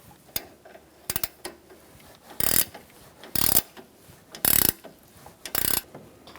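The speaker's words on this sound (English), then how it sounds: "we're going to use our Allen wrench and wrench to tighten it up" An Allen wrench and a ratcheting wrench tighten the strut nut on a 2012–2018 Ford Focus front strut assembly, with about five short, loud bursts of ratcheting clicks separated by brief pauses and a few lighter metallic taps.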